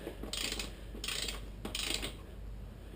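Adjuster on a Yamaha TW200 brake being tightened, three short bursts of ratcheting, mechanical clicking with brief pauses between them, close over a low steady background hum.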